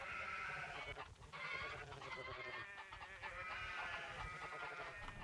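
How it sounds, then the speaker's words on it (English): Bleating from a gray sheep in a modded Minecraft 1.6.4 world, several wavering animal calls layered over a steady background din of other game sounds. "Is that a gray sheep?"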